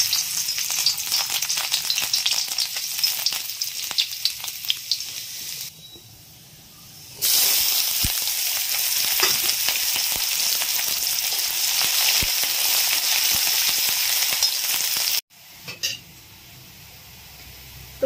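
Onions sizzle and hiss steadily in a hot pan for stuffed chachinda curry, a loud continuous fry broken by a short quieter lull and a brief drop near the end, with no talking.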